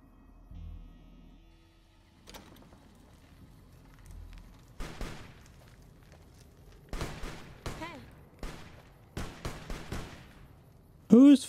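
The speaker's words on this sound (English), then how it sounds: "Who's firing?" Gunfire in Fallout: New Vegas, modded: scattered sharp shots in uneven clusters, starting sparse and growing denser toward the end, with a louder final shot, over quiet background.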